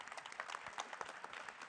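An audience at the Hong Kong Film Awards nominations announcement claps in a faint, brisk patter of many hands, with steady rapid strikes and no voices.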